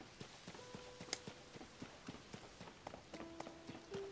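Horse hooves clip-clop at a steady walking rhythm in the video game Zelda: Tears of the Kingdom, moderately close and alone, with soft chiming tones over the even beats.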